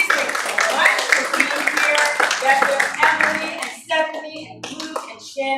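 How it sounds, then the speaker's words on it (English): An improv show audience claps in a steady round of applause for the performers, loud and close, with a voice talking over the clapping as it fades out. "give Brayden a round of applause"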